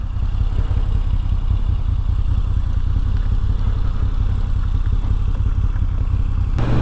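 A 2022 Moto Guzzi V7 Stone rides over loose gravel, its engine droning steadily beneath a constant crunching, rumbling road noise, loud and unbroken throughout.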